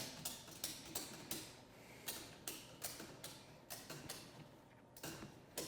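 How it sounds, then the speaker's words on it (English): A ratchet strap cranked down on a Polaris rear suspension skid frame: a run of rhythmic ratcheting clicks and creaks, roughly a dozen strokes at an even pace, close and quiet, no talking. "Go ahead and ratchet it there, and we're gonna just start to ratchet this down"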